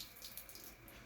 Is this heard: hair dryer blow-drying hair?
no